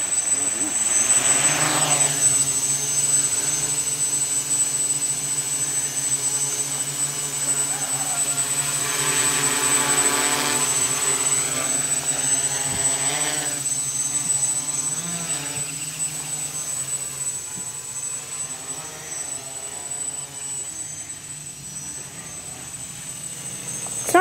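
A quadcopter drone on its first flight gives off a steady, high-pitched whine with shifting tones as its rotors change speed. Voices of several people talk over it across the whole stretch.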